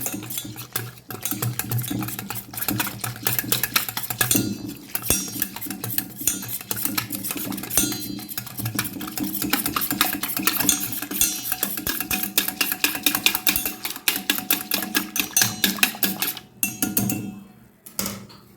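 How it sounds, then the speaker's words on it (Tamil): Rapid, steady scraping and clinking of a whisk beating wheat flour and water into a batter in a bowl, continuous and close, with brief pauses. "இப்போ நல்லா ஒரு விஸ்கு வச்சு நல்லா கலந்து விட்ருங்க"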